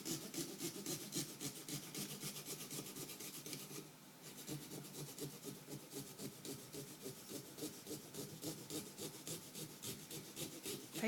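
Rhythmic back-and-forth sawing as a hand saw carves a floral design into a pumpkin, steady rasping strokes at a quick even pace, close and quiet, with a brief pause midway and no talk.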